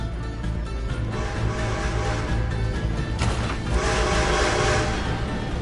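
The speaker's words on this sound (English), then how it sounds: "Gotta beat that train, Morgan!" An approaching train rumbles steadily in a video game while its horn sounds in long sustained blasts, growing louder and fuller toward the end, with no talk over it.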